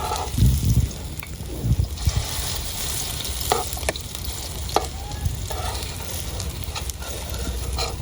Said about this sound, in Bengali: তো শুরু হয়ে গেছে বড়া ভাজা।